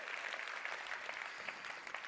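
A convention audience gives a brief round of applause for a woman just introduced on stage, dense hand clapping heard at moderate distance without talk.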